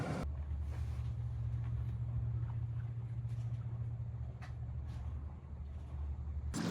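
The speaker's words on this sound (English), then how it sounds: "Sometimes you have to take what the wind gives you, even if that means going 2 knots an hour" A sailboat creeping along at about 2 knots in light wind in the San Juan Islands: a steady low rumble and soft wind noise throughout, with faint brief creaks and ticks, quiet and continuous, no voices.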